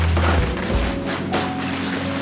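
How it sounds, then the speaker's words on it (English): Firecrackers explode at the Phuket Vegetarian Festival in a dense, rapid crackling barrage of overlapping pops and thumps, loud and continuous throughout, with low rumbling underneath. "they turn into the loudest firecracker display imaginable"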